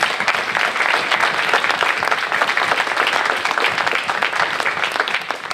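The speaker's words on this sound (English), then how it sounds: "Let's give them a round of applause." Steady applause from an audience at a school board of education meeting, dense continuous clapping held at an even level throughout, close and sustained with no talk over it.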